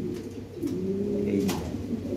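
A breeding pair of red-beaked, red-eyed pigeons coos in low, rolling, repeated phrases, close by, with faint clicks and background rustle but no talking.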